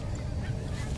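Geese honking on a goose hunt, a short burst of calls set low and fairly faint against steady wind and outdoor rumble.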